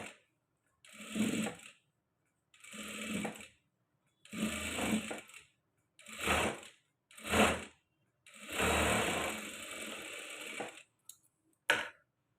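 A sewing machine stitches a blouse in several separate bursts of mechanical whirring, each one to two seconds long with one longer run, close and clear with silence between bursts and no talk.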